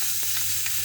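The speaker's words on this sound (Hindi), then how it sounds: "अदरक लहसुन का पेस्ट डाल रही हूँ" Ginger garlic paste sizzling hard in a pot of hot oil with whole spices and cumin while mutton pulao is cooked: a steady loud hiss with a few faint stirring scrapes, no voices.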